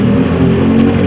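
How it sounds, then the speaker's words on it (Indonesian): A Honda Supra X 125 motorcycle engine idling close up with a loud, steady low thrum and a dull knocking vibration, as the bike suffers from stalling on its own. "suara bok-bok ini yang getar ya."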